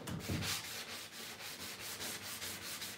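Steady rhythmic rubbing of sandpaper on a painted surface, close and fairly quiet, with repeated back-and-forth strokes and no talking.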